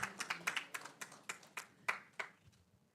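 Sparse applause for a colleague at a consultation meeting on digital gender-based violence, a small group of distinct, fairly close hand claps in an irregular rhythm that fade out.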